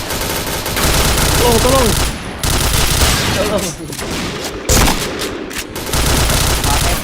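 Rapid bursts of automatic gunfire in a multiplayer shooter game, loud and dense, with voices talking over the shooting.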